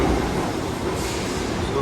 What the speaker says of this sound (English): So this is number 1 train